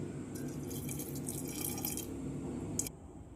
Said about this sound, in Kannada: ನಾ ಇಲ್ಲಿ ಅರ್ಧ ಕಪ್ ನೀರು ಮಿಕ್ಸ್ ಮಾಡ್ತೇನೆ.